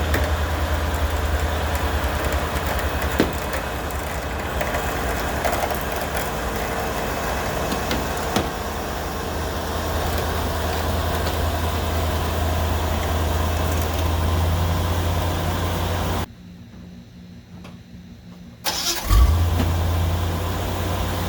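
A Smittybilt 9.5 Gen 2 winch on a Jeep pulls steadily, its motor drone mixed with a running engine hum at constant loudness for most of the time, then briefly drops away before resuming.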